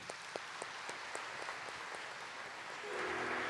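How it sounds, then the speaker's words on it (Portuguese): A church congregation claps steadily and faintly at a distance, and the applause swells slightly toward the end. There are no voices over it. "Vamos aplaudir a palavra?"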